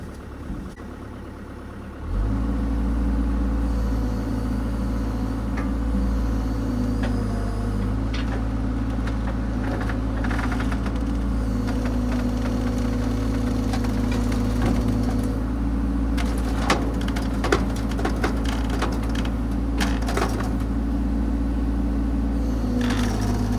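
A dump trailer raises its bed: a motor-driven pump starts abruptly and holds a loud, steady droning hum, with scattered knocks and creaks over it.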